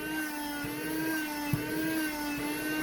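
A Black & Decker vacuum running steadily, trying to pick up a block of 2x4, a constant whining motor drone with one small knock partway through, close and fairly loud.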